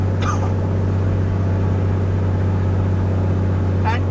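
An aircraft piston engine runs at steady, loud drone as power is gradually reduced and RPM and manifold pressure fall during an inspection run-up, a continuous hum with faint brief clicks.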